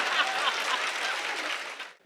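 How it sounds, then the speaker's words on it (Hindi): A crowd claps steadily at a Hindi comedy poetry show, dense applause for about two seconds before cutting off abruptly. "यहां ताली बजनी थी, अब ताली बजाओ"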